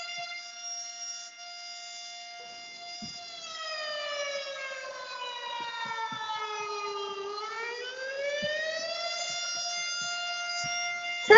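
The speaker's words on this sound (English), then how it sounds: "Turn off the siren now!" A loud wailing siren holds a steady tone, then sweeps down and rises again, continuous and close throughout.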